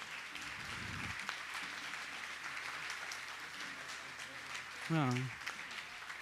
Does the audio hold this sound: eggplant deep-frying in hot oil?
no